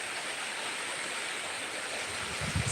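Heavy rain coming down hard, an even rushing hiss filling the space, steady and near, with a low rumble swelling toward the end.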